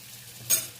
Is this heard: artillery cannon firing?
no